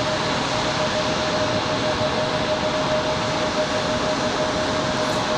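Southwest Airlines jet arriving at Raleigh Durham airport from Chicago Midway, a steady broad engine roar with a faint sustained whine, constant and fairly loud across the stretch.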